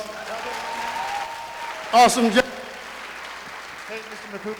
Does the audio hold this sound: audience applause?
yes